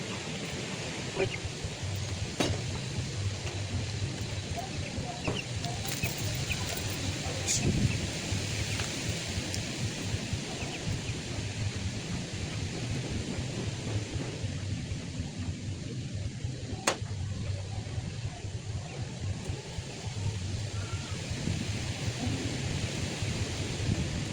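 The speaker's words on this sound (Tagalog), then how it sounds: "Malakas kasi yung hangin." Strong wind blows steadily outdoors during an open-air cooking attempt over a fire, a broad continuous rushing roar with gusty rustle and occasional faint knocks.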